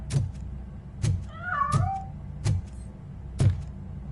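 A cat meows once, with a clear rising-and-falling cry in a Robocop video game, between a series of evenly spaced heavy thumps.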